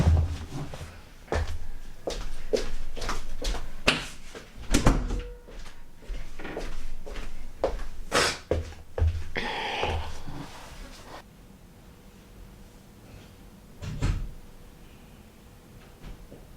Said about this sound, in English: 1 second, let me shut this door.